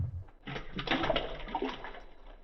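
Water pours steadily into a cooking pot for boiling, a close rushing splash that starts abruptly and runs for about two seconds before easing off.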